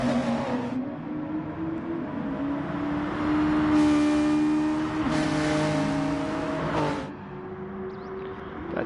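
Several race cars lap together at Bathurst, among them a Toyota, a Renault RS01 and a Hurricane, their engines droning loud and steady with rising and falling revs as they pass close by, under faint commentary.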